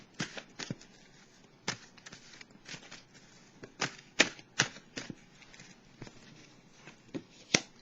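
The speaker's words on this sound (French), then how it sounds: "Je vais piger une carte de l'oracle de l'âme intuitive pour le signe du poisson" Oracle cards being shuffled and drawn, a run of soft papery flicks and taps with no voice, fairly quiet and close.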